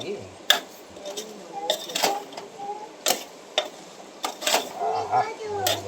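Chicken fry is stirred in a pan, with sharp metallic clanks and scrapes of a spoon against the pan arriving at irregular intervals, close and fairly soft, under intermittent talk.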